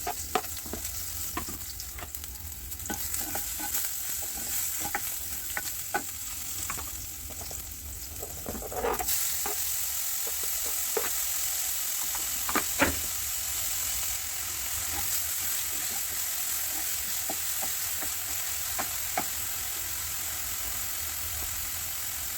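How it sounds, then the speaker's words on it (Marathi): Vegetables sizzle steadily in hot oil tempered with mustard seeds and hing in a kadhai, a continuous frying hiss with occasional stirring scrapes and small crackles throughout. "नंतर मी एक एक सगळ्या भाज्या कढईमध्ये टाकत आहे"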